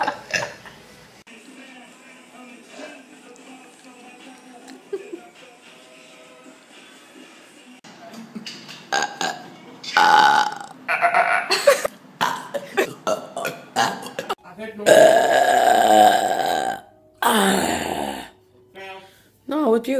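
Loud, drawn-out burps come one after another, several long croaking belches with short gaps between them, some of them quite close.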